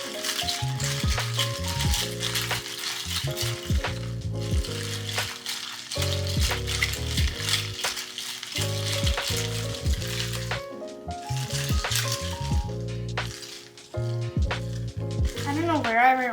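Coconut milk dragon drink, a homemade Starbucks-style drink, being mixed with a steady close rattling throughout, mostly covered by loud background music.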